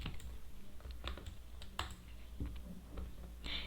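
Keys clatter on a computer keyboard as code is typed, a quick irregular run of close clicks with brief pauses, fairly quiet over a steady low room hum.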